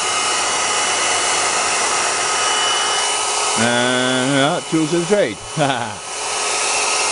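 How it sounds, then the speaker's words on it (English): A hair dryer blows with a steady, loud whooshing hum from start to finish, and a person speaks briefly over it partway through. "get the hairdryer out"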